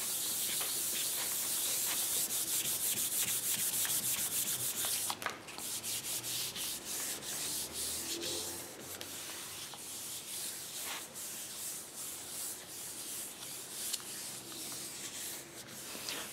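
A clean-off sheet is rubbed firmly over a gel printing plate, making a steady, close, dry scrubbing hiss that runs without a break, easing slightly after the first few seconds.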